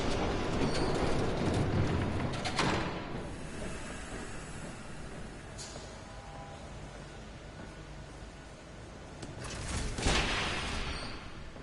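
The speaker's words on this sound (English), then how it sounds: "There's a train coming." Approaching train in Batman: The Telltale Series, a broad rumbling rush that starts loud, eases into a steady hiss and swells again near the end, with no talk over it.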